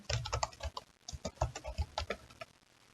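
Quick bursts of keystrokes on a computer keyboard entering a filter name, close and crisp in an irregular rhythm with a short pause near the one-second mark.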